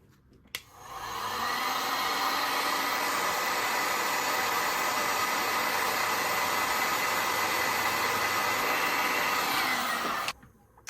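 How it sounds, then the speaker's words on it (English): A heat gun blows steadily for about nine seconds while warming the edges of cured epoxy resin art, a loud continuous hot-air roar, close up, switching on and off sharply. "I take my heat gun and I just lightly warm up those edges a little bit"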